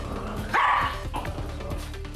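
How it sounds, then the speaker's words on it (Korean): A poodle at home gives a short, loud burst of barking during a behaviour-training session, a single sharp bark cluster standing out against quiet room noise. "짖는 거 2번."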